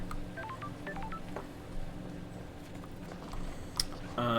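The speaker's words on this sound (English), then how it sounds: "There's that phone call sound that is actually just a phone booth." Phone booth call tone in the video game Paradise Killer, a series of short dialing-style beeps over a steady game background hum, moderately loud throughout with no talking.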